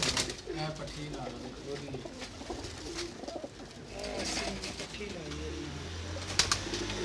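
Kamagar pigeons coo softly in a loft, low repeated calls mixed with rustling and background sounds, with some voices present.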